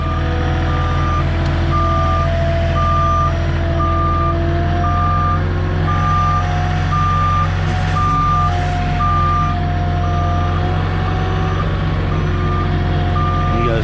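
A delivery truck carrying sheetrock backs in, its reversing alarm beeping in a steady, evenly spaced rhythm over a loud, continuous engine rumble close by.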